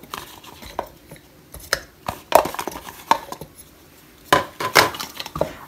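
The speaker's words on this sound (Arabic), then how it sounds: "اول حاجة انزل بالبصل والطماطم والثوم معايا علشان افرمهم" Onion, tomato and garlic are chopped on a board, a series of irregular close knife knocks and clinks with pauses between bursts, no talk.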